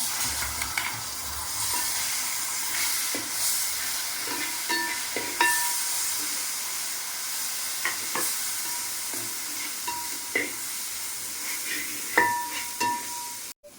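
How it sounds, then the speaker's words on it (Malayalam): Tomato paste sautéing in a pan for a homestyle chicken curry, with a steady close sizzle and repeated scraping stirs of a spoon throughout, and no one speaking. "തക്കാളി പേസ്റ്റിൻ്റെ പച്ചമണം പോകുന്നവരെ അതും കൂടി ഒന്ന് നന്നായിട്ട് വഴറ്റിയിട്ടുണ്ട്"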